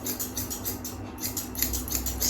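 Scissors trimming the facial fur of a Shih Tzu: quick, rhythmic close-up snips, a steady run of light metallic cuts, with no talking.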